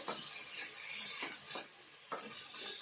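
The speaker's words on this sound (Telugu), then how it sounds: "కొంచెం మెత్తబడేదాకా వేయించుకుందాము" Dried fish and tomato curry frying in a pan, a continuous close sizzle broken by a few rhythmic scraping stirs of a utensil against the pan.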